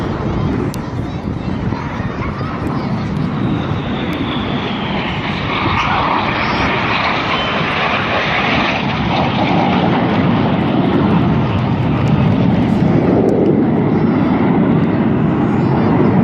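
Display team aircraft roaring past at an air show trailing coloured smoke, a loud continuous broad engine rush that swells and fades over the whole stretch, with a commentator talking over it.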